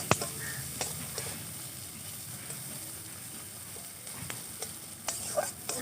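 Chopped onions fry in oil in a village kitchen while green chillies go into the pan for a Bengali fish kalia. A soft, continuous sizzle runs underneath, broken by a few sharp clicks and scrapes of stirring.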